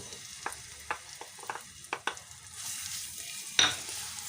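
Mashed dates fry in ghee as a spoon stirs and taps the pan in scattered clicks over a faint sizzle, ending with a sharper scrape; close and fairly quiet, with no talking.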